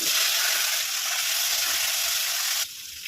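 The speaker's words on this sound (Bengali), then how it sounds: "এবার আমি আলুটা ভেজে নেব" Cut potatoes frying in hot oil in a pan, a steady bright sizzle that runs close and loud for almost three seconds before dropping off abruptly.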